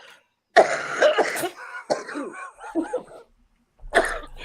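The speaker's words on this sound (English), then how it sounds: "I'm coughing from my sinuses" A woman coughs from her sinuses in a few harsh, throaty bursts followed by a short throat clearing, close and loud, with another person briefly asking after her between coughs.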